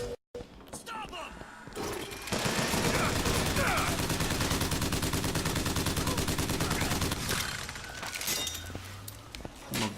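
Sustained rapid automatic gunfire from a weapon in a late-1990s video game, loud and continuous for several seconds with crashing, shattering hits, while a player talks over it.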